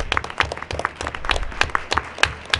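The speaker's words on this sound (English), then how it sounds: "Let's give them a round of applause." A meeting room fills with a dense round of applause from many hands, steady and fairly close, as attendees clap for a chef and a cafe that catered the event.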